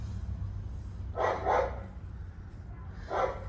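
A dog barks in a garden beside a flower bed, two quick barks followed by a third after a pause, moderately distant over a low steady background hum.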